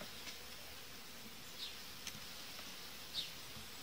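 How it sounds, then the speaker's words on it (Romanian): A honeybee colony formed from a swarm, checked in August, gives a faint, steady, diffuse buzz throughout, with a few slightly louder passing hums. "Ce are această colonie care s-a transformat într-un roi"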